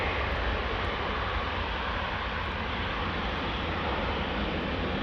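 A jet airliner departs from runway 24 at Amsterdam Schiphol, its loud, dense engine roar holding steady and close for the whole stretch with no other sounds breaking through.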